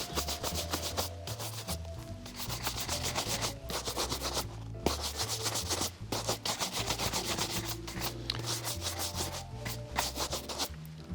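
Shoe shine brush buffing dried Saphir Médaille d'Or wax polish off leather sneakers, a steady close rubbing swish in quick back-and-forth strokes with brief pauses, loud and alone.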